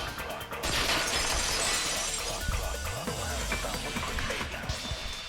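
A vase shatters in the Danganronpa 2 video game, a loud crash of breaking ceramic followed by a sustained spray of scattering shards against a busy game soundtrack.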